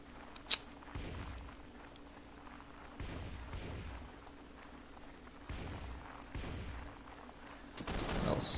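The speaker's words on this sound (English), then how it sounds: "Some people are shooting." Gunfire in the Warsword Conquest game: a sharp crack early on, then a series of spaced, moderately distant shots and thumps over a steady low hum, with a louder burst near the end.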